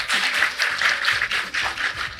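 Applause from an audience at a company event in Korea, a steady wash of many hands clapping, moderately loud and unbroken, with no voices over it.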